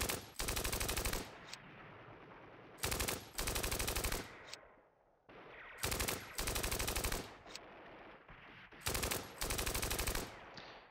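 Bursts of machine-gun fire in the Iran-Iraq war tactical game Steel Panthers, several loud rapid volleys separated by short pauses with fading echoes between them.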